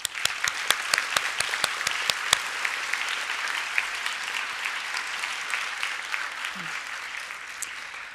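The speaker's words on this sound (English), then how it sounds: "So let's give them a round of applause." Round of applause for teachers at a fifth-grade school promotion ceremony, a few loud close claps up front blending into a sustained crowd of clapping that continues evenly and slowly thins.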